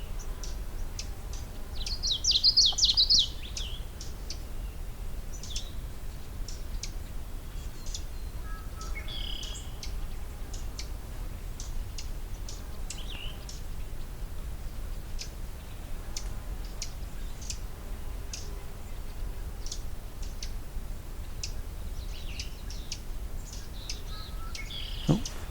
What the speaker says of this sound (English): Oh, mountain chickadee, I think.